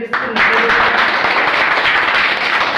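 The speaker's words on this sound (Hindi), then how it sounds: "एक जोरदार तालियां होनी चाहिए" Audience applause at an RCM business seminar in Jhandapur, a steady dense wash of clapping filling the whole clip, loud and close, with a brief voice at the start.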